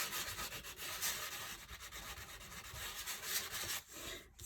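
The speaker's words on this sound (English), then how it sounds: "So I'm just sanding off the embossed, the raised part of the embossing." Sandpaper rubs with quick back-and-forth strokes over the raised embossed foil on a handmade card, a faint, close scratchy rasp with no talking.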